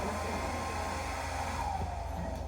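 A steady, even whoosh of an electric blower pushing an air stream to hold a ping pong ball aloft, continuous broadband noise with a low hum, close by and constant throughout.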